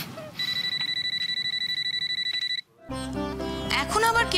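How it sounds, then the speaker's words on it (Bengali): A telephone rings indoors in a Bengali TV serial home scene: a rapid, bright electronic trill runs steadily for about two seconds, then cuts off and music with swelling tones takes over. "এখন আবার কে ফোন করলো?"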